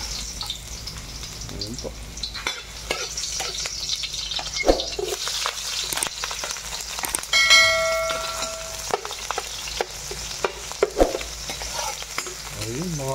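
Chicken tinola base sautéing in hot cooking oil, with a constant crackling sizzle broken by scraping stirs and utensil clinks, while someone speaks briefly near the pan.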